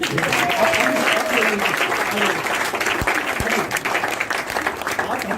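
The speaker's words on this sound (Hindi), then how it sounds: "यहाँ पर इनके ताली बजा दीजिए" An audience at a stage performance of Swadesh Deepak's play Court Martial applauds steadily, the dense clapping sustained and fairly loud throughout, with a faint voice beneath the claps.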